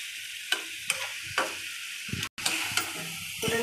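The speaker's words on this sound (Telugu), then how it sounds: "బాగా ఎగిపోయాయి కదా చేపలు." Fish in masala fries in a pan for Nellore-style fish curry, with a steady sizzle under sharp, evenly spaced scrapes of a spoon stirring the pieces, plus a brief dropout partway through.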